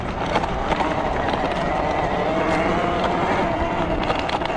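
A Talaria MX5 electric dirt bike rides a trail at Hatfield McCoy. Its steady, loud rush of motor whine and wind noise runs without a break, close to the mic, with no talk over it.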